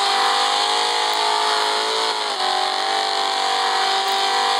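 A car with four exhaust pipes revving hard at a car meet, a loud sustained engine roar with a brief dip in pitch midway before climbing again.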